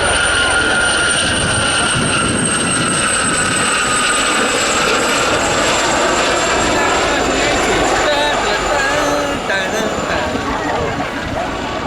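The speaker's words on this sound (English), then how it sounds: "you can hear the very distinctive whine sound that comes from the combination of the engine and the Fenestrom tail unit" A display helicopter at the RAF Cosford Airshow in 2016 gives off a loud, sustained multi-tone whine from its engine and Fenestron tail unit, with a rotor chop beneath that eases slightly near the end.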